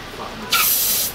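Air hissing into a balloon being blown up, a sudden loud, steady rush of air lasting about half a second before cutting off, close to the microphone.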